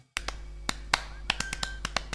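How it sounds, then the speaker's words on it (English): Sparse applause on a robot-hosted astronomy talk show: about ten separate sharp claps at irregular intervals, crisp and close, with a faint steady tone and low hum behind them. "Let's have a big round of applause for my production crew."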